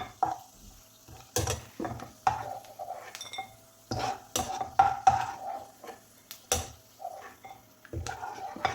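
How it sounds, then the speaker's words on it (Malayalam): A spoon scraping and scooping fried raisins out of a pan of hot fat while making rava halwa, soft intermittent metallic clinks and scrapes over a faint sizzle, with quiet gaps between strokes. "എല്ലാം നമുക്കൊന്ന് കോരി മാറ്റാം."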